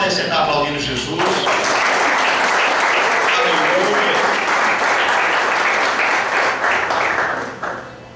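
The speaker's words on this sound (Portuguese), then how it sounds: "Podem sentar aplaudindo Jesus" A church congregation bursts into sustained, dense applause at the close of a prayer, loud and close, fading slightly at the end, with some speech mixed in at the start.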